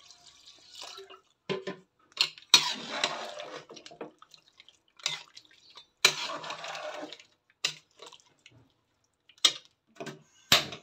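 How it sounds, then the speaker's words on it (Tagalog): Water poured into a cooking pot of beans with pork pata and bitter melon leaves, heard as intermittent splashing, dribbling bursts separated by short quiet gaps. "So dagdagan natin guys ng tubig."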